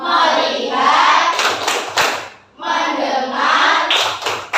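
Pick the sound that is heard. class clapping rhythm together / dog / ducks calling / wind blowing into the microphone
class clapping rhythm together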